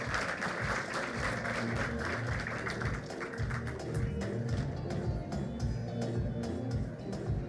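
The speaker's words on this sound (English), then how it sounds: "Let's clap for him." Audience clapping at an award ceremony for a national skills competition, a steady patter of hands mixed with low rumbling room noise and some indistinct voices, continuing throughout.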